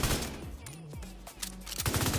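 Rapid bursts of automatic gunfire from The Division 2 video game, sharp repeated shots with brief gaps and ricocheting tonal sweeps between them, close and loud.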